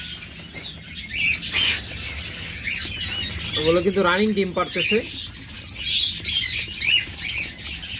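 Twenty-five-day-old king quail chicks and their parents call in bright, high chirps and squawks, with a person talking in between.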